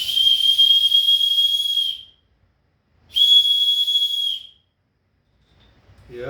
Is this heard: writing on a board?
no